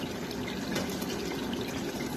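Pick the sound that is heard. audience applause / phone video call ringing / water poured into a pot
water poured into a pot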